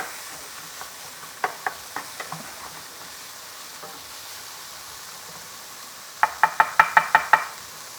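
Seasoned meat topped with parsley cooking in a pan, a soft sizzle under scattered knocks and taps, ending in a quick burst of louder utensil clacks close by; no talk.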